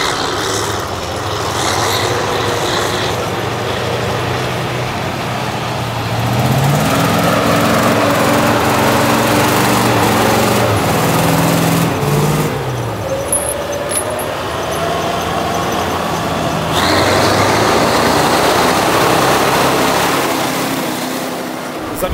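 A military vehicle on open tyres with almost no suspension, at a winter military vehicle rally in Borne Sulinowo, drives along while its engine revs up and holds a rising, droning note, easing and climbing again over a steady rumble.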